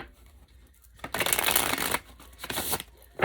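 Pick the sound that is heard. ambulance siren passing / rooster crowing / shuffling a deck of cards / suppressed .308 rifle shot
shuffling a deck of cards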